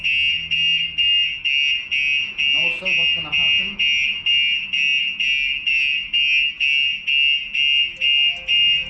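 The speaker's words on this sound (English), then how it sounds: "After a few seconds, the alarm will set off." A StarLine S96 vehicle alarm blares in a loud, rapid pulsing pattern, repeating steadily, while a person speaks briefly under it.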